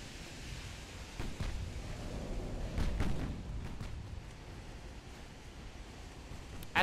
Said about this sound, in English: At this range, these 10-inch guns should rip his ship apart.